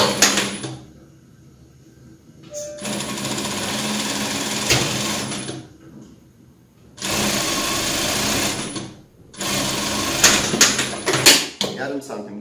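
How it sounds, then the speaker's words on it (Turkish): A sewing machine stitches the seam of a dress, running in several loud bursts of a few seconds each, separated by quiet pauses. "Yarım santim dikiş payla vurduk ve regolamızı yaptık"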